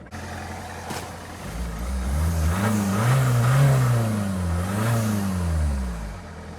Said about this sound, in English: Definitely got a bit more diesel knock.